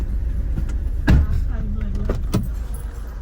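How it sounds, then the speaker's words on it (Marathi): A car driving along on a trip to a hill village, its low steady road rumble heard from inside with a few clicks and thumps, while people talk. "पप्पा गाडी चालवतो"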